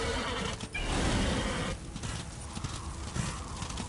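A horse gallops in the Darksiders video game, its rapid clip-clop hoofbeats loud and steady under a dense rumble, with a brief whinny-like sound near the start.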